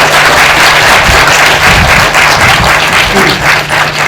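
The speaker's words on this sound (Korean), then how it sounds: "박수로 맞아주십시오." A crowd gives loud, sustained applause to welcome a guest at a film screening talk event, a thick unbroken roar of clapping close to the microphone that holds steady throughout.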